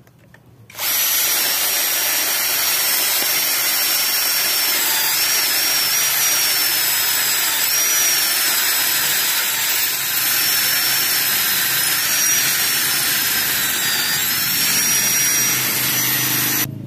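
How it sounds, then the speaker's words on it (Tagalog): A Tanzu cordless drill bores into solid stone in drill mode without hammer action, a loud, steady high-pitched whine that starts abruptly and runs continuously, with no voices. "So ngayon, mag-drill test po tayo dito."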